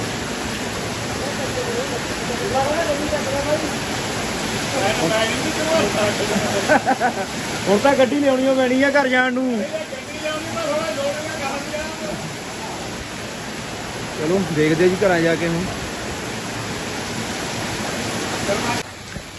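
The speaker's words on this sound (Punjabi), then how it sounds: "ਸੀਜ਼ਨ ਦਾ ਸਭ ਤੋਂ ਜ਼ਿਆਦਾ ਤਕੜਾ ਮੀਂਹ ਅੱਜ ਪਿਆ" Very heavy monsoon rain pours down during flooding in Punjab, a dense, steady roar that fills the whole stretch while someone talks over it.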